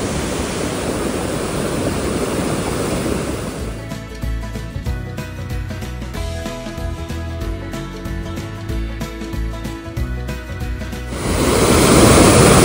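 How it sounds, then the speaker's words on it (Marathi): A swollen river swollen by heavy Konkan monsoon rain roars and crashes in a loud continuous rush, briefly giving way to a muffled, rumbling passage before the full roar returns. "असलं आपटलंय बघा पाणी तिकडे"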